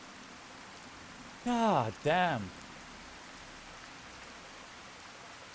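Steady rain in the game Fallout New Vegas, a soft continuous hiss running the whole time, briefly interrupted by a short burst of speech.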